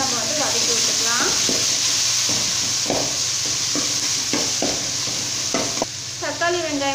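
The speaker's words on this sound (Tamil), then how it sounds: "இப்போ இது எல்லாமே சேர்த்துட்டு நல்லா நம்ம வந்து வதக்கி விட்டுடலாம்" Onion, tomato and curry leaves sauté in hot oil for bottle gourd sambar, a steady sizzle broken by repeated stirring scrapes of a spoon in the pan, with a voice talking over it at times.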